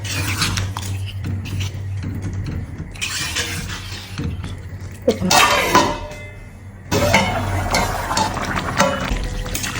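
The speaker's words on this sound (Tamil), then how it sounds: "அப்படியே கிண்டி விட்டுருவோம்" Fish biryani stirred in a pot, with repeated scraping and rubbing of a spoon against the metal and occasional clanks, loud and close with breaks between strokes.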